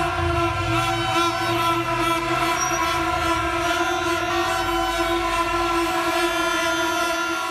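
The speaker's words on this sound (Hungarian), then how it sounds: "Sípolva vonultak fel Brüsszel utcáin a román fuvarozók" Trucks driven by Romanian haulers at a protest in Brussels, a sustained loud, steady horn blare over constant engine rumble, with no break from start to finish.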